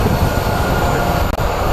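A departing airplane at Phoenix Sky Harbor airport roars steadily with broadband jet noise throughout, loud and continuous, with a brief dip near the end.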